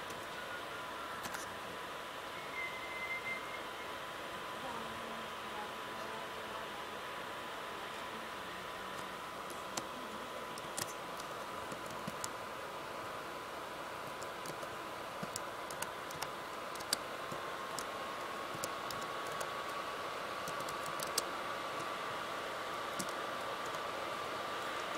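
Keyboard keys tapped in a faint, irregular patter beneath a steady hiss of background noise, during a Sims 3 Pets game session.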